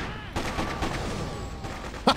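Rapid gunfire in the Freedom Fighters video game, a dense run of close shots that rattles on for about two seconds under a noisy battle background.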